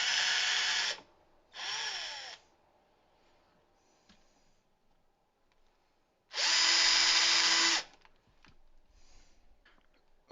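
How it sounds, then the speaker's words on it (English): A power drill bores holes for a cabinet door latch strike in two short whirring bursts, then after a quiet pause one longer, louder burst, each a high-pitched close-up whine. "Now I'll just drill some holes."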